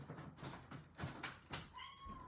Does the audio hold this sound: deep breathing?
no